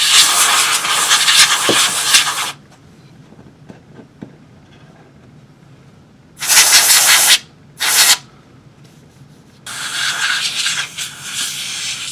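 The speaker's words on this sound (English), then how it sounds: "let me go get some compressed air" Compressed air sprays onto a charger's circuit board in three loud hissing bursts, one long, then two short, then another long, separated by near silence with faint handling clicks.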